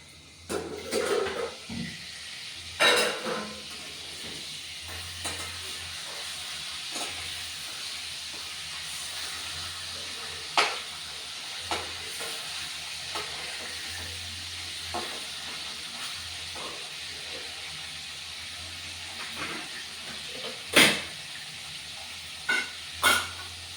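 Shankar fish frying in a pan, a steady soft hiss and sizzle with occasional sharper spits and crackles scattered throughout, no talking.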